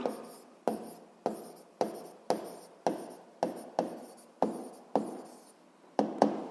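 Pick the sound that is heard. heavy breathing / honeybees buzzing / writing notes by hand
writing notes by hand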